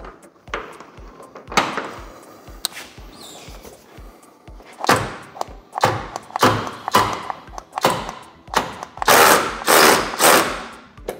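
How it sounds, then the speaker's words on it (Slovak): A Parkside Performance 20 V cordless ratchet loosening a fastening screw, heard as a series of sharp mechanical bursts and clunks, irregular at first and then quicker and louder near the end, with no talking. "Ja si ale vyskúšam povoliť skrutku pre uchytenie."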